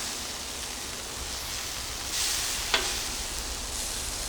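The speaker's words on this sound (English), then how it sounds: "I'm going to go ahead and flip over my grouper." Grouper fillet sizzling on an Evo flattop griddle as it is flipped, a soft steady hiss with a brief louder burst and a single sharp click from the spatula, fairly quiet and without talk.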